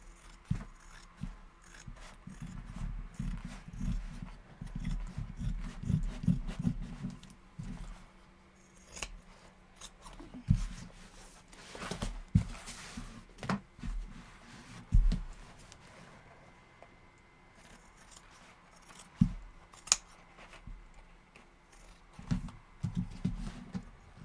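Fabric scissors snip through leather as an outline is cut for a book cover, giving a run of close, irregular crunching cuts and rustles with short pauses between them and no talking.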